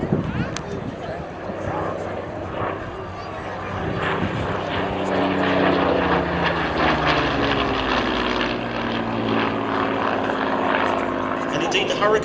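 Hawker Hurricane MkII propeller fighter aircraft: a droning piston engine and propeller rising to a louder, steady roar, mixed under someone narrating throughout.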